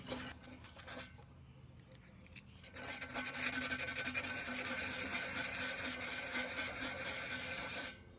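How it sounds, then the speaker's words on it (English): Fine 400-grit sandpaper rubs steadily over a rusty old metal lantern, a continuous close scratchy rasp that quiets briefly near the start, then runs loud and unbroken before stopping abruptly. "Now going back with some really, really fine sandpaper. I believe this is 400 grit."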